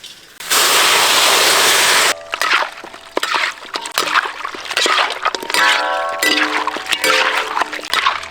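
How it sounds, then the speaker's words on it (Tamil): Salted water is poured into mutton cooking with curry leaves, starting with a loud, steady rush of pouring liquid, then giving way to sharp crackling, sizzling and clinking in the pan. "கடைசியாக தேவையான உப்பு தண்ணியை ஊற்றி மட்டன் நல்லா வேக வச்சுக்கலாம்"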